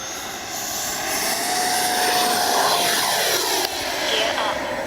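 A Freewing Avanti S 80mm electric ducted-fan RC jet flies past with a loud, high whooshing whine that rises and sweeps in pitch as it passes close.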